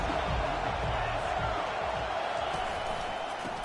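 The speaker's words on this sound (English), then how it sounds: "Decibels rising as the crowd gets behind this defense on third down" A football stadium crowd in a Miami vs Florida game roars for the defense on third down, a dense and steady wall of noise that holds at full volume throughout, with commentary running beneath it.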